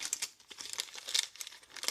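A small plastic packet crinkles close up in quick irregular rustles, faint and dry, handled during the teardown of a PocWeld welder.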